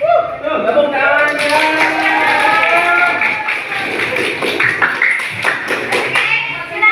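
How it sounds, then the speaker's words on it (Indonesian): Students in an Islamic studies classroom clap their hands together, the scattered claps rising under a burst of overlapping young voices and chatter. "Tepuk tangan."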